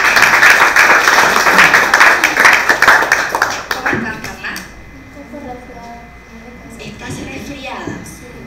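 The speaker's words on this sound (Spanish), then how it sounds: "El aplauso para Carla." An audience claps for a contestant at a regional pageant final in Guna Yala, a dense burst of applause that fades after a few seconds as a voice starts speaking.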